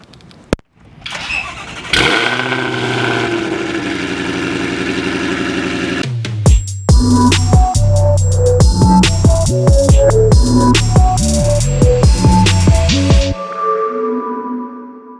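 A Whipple-supercharged 2020 Shelby GT500 making 1100 rear-wheel horsepower fires up and settles into a loud, close idle, then barks through a rapid run of sharp throttle blips before cutting off abruptly.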